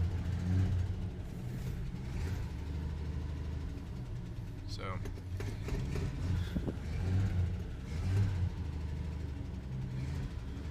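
1969 Jeep Wagoneer engine runs at a low, steady idle after a cold start, a deep continuous rumble beneath a voice talking over it.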